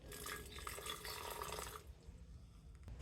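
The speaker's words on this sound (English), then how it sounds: "We'll add just a little bit of hot water in there." Water pours and splashes steadily for a couple of seconds, then cuts off, leaving quiet with a faint clink near the end.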